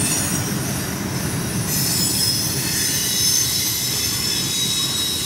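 A long, mixed CSX freight train rolls past close by, its wheels squealing steadily at a high pitch over a continuous low rumble of rolling cars, with no talking.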